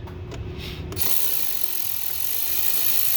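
A 7 mm ratchet clicks rapidly and steadily up close while loosening bolts on the air filter housing of a 2020-2021 Ford 6.7 diesel truck engine.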